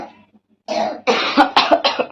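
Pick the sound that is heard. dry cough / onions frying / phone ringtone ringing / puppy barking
dry cough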